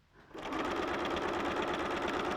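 A sewing machine stitches fabric, starting up after a brief pause and running at a steady, rapid, even mechanical rhythm, close and loud.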